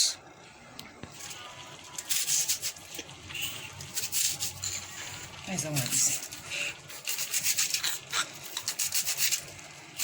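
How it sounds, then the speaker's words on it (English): Half an onion being sliced with a knife for ogbono and okra soup, heard as quiet repeated scraping and cutting strokes in uneven bursts, close but soft, with a voice talking now and then. "So I'll be slicing half of this onion to the pot."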